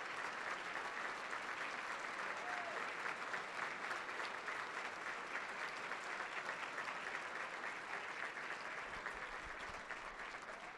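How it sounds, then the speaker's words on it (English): Sustained applause from a large conference audience fills the room, a dense steady wash of clapping that holds for about ten seconds and eases slightly at the end, with no speech over it. "please stand and let's all give them a round of applause"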